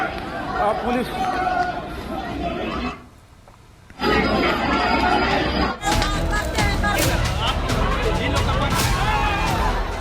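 Angry protesting crowd in a street in Darbhanga, Bihar, with stone-pelting and police pushing people back, a loud roar of shouting and chatter that drops out briefly before resuming even louder.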